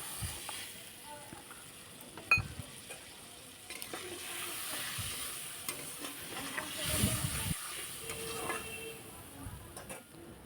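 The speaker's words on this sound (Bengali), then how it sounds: "জলটা দেওয়ার পরে মশলাটা ভাজতে থাকবো" Bengali spice paste for a tangra fish curry frying in oil after water is added, giving a soft sizzle with occasional stirring scrapes and clinks, fairly quiet and close.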